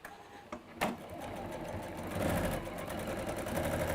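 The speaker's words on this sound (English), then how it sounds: "So we sew them together, but we leave an opening in the centre." Sewing machine running steadily as two fabric pieces are stitched together, with an opening left in the centre; a continuous close mechanical whir with a few brief knocks near the start and no talk over it.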